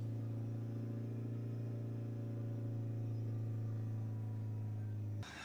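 A Ford S-Max 2.0 diesel with a particulate filter fault runs at a steady, close engine drone with a strong low hum, holding fairly constant before dropping abruptly near the end.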